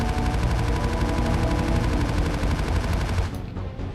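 A modded Aiden cannon turret in Space Engineers fires a loud, dense stream of rapid shots for about three seconds, then stops and leaves a fading tail.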